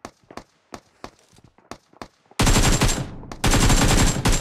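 Video game gunfire, with scattered single shots and footstep-like taps first, then two long, loud bursts of automatic fire separated by a short gap.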